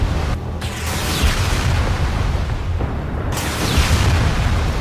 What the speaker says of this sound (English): a falling chunk of ice can rip through the roof of a house